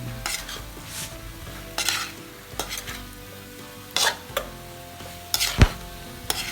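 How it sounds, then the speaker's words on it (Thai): Spicy pork belly stir-fries in a pan with torn kaffir lime leaves, red chilies and green peppercorns: a soft steady sizzle broken by a series of scraping, clinking spatula strokes against the pan. "ใบมะกรูดฉีก พริกชี้ฟ้าแดง แล้วผัดให้ทุกอย่างเข้ากัน"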